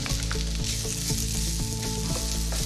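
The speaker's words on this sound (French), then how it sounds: "Je verse mes lardons à l'intérieur." Bacon lardons sizzle in a frying pan, a constant, close crackling hiss, with steady music playing underneath.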